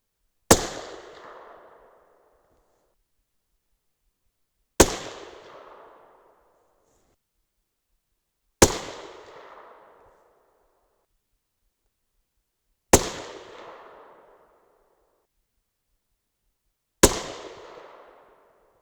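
Five 6.5 Creedmoor rifle shots firing 140-grain Nosler RDF handloads with H4350 powder, each a sharp, loud crack with a decaying echo, spaced about four seconds apart in otherwise silent air.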